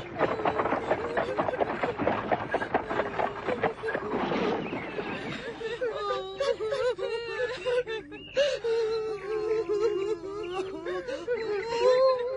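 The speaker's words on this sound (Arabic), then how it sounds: "إنها أصوات بكاء ابنتي." A girl cries and wails in long, rising and falling moans over a steady background, loud and sustained throughout.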